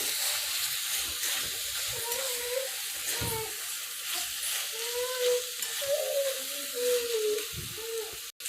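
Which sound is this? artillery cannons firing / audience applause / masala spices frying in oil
masala spices frying in oil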